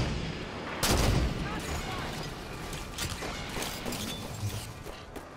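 Sniper rifle fire in the Halo 5 video game: a sharp burst near the one-second mark, then scattered sharper shots and battle noise, with people talking over it.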